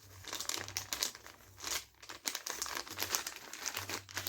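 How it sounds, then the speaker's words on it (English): A used female condom being rolled up in a tissue or napkin, giving close, continuous papery crinkling and crumpling with brief pauses, no talking. "you can just put it in a napkin or a tissue and you roll it up"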